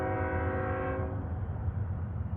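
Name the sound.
train passing and making noise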